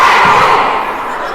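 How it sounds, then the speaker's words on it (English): The Freire Academy cheer team shouts at a girls' basketball game in a loud indoor gym, a brief burst of massed voices and crowd noise that fades slightly toward the end. "FREIRE cheer team."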